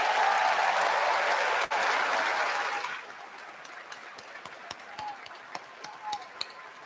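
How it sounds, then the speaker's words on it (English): Audience at a 2022 high school graduation ceremony giving parents a round of applause: dense, loud clapping from a large crowd for about three seconds, then fading to scattered claps and murmurs. "And students and guests, please give them a round of applause."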